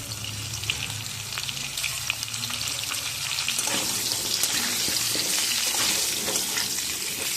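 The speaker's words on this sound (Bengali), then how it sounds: "আলুগুলো একটু ভাজা হয়ে গেলে এর মধ্যে আমি পটলগুলো দিয়ে দেবো।" Potatoes with a little turmeric fry in a pan, giving a continuous crackling sizzle that swells louder in the second half, with occasional stirring clicks.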